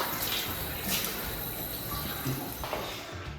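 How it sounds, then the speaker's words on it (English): Water runs steadily from a matte black Delta commercial proximity faucet as hands are washed beneath it, a constant close hiss and splash with small shifts in the flow. "I'm about to wash my hands with this beautiful matte black Delta commercial proximity faucet"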